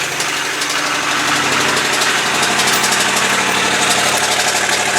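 A 1989 Ford F250 service truck, abandoned for four years, idles on its first start. The engine makes a loud, close, steady putter with a rough, knocking vibration and no voices.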